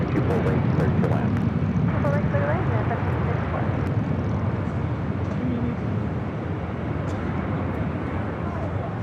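A United airliner on approach to land, its jet engine roar steady and fairly loud throughout, heard alongside radio chatter from air traffic control.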